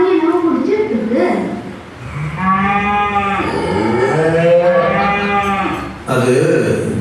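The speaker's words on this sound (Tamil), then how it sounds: "நிறைய மாடுங்க என்னவோ குடிச்சிட்டு இருக்கு" Cattle at a Jagannath temple gate drinking rice water from cooked temple rice give long, loud, close moos, several drawn-out calls overlapping with people talking nearby.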